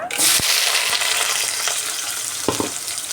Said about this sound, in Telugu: ఆవాలు కొద్దిగా చిటిపట్టలాడే వరకు వేగించుకుందామండి